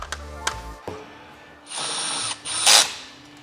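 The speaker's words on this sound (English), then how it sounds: "Put the rest of the screws in." A power tool drives countersunk stainless screws into an aluminum base plate for a recovery board mount, with two short, loud whirring bursts following a few quiet clicks and handling knocks.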